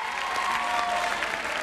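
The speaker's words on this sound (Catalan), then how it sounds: "carreguen energia amb aquest aplaudiment extraordinari i merescut" A studio audience at a Catalan word-game show final applauds contestants taking their seats, giving a short, steady wash of many hands clapping at full strength throughout.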